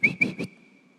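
A person whistles to call a dog: three short, sharp chirps in quick succession, the last tone trailing off, close and clear with no talk.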